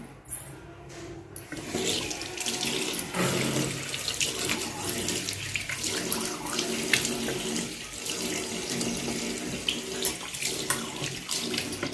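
Water runs from a household tap while a face is washed. After a brief quieter start, a close, steady splashing stream continues with shifting spatters as hands move through it.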